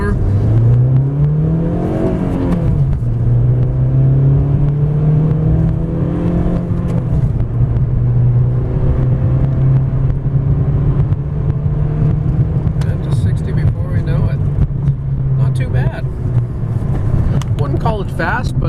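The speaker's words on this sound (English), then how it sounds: "we'll do a 0 to 60 acceleration run. See how fast we can get to 60 miles per hour." A 2006 Honda Civic EX with a five-speed manual accelerates hard from 0 to 60 mph. The close, loud engine note climbs in pitch, dips briefly at a gear change, then holds a strong steady drone.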